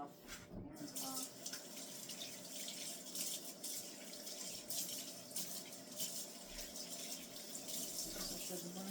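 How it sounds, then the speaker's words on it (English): Water runs steadily from a kitchen tap while hands are rinsed under it, a continuous broadband splashing stream lasting throughout with a brief break near the start and faint talk in the background. "I'm gonna rinse my hand off."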